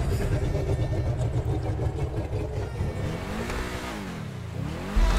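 Sports car engine in GTA 5 revving loudly and steadily for several seconds, with a rising and falling pitch sweep near the end.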